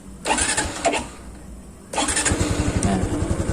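A new Honda Wave 110i 2020 motorcycle is started with the kick starter, giving two short cranking bursts before the engine catches and settles into a steady, close, pulsing idle.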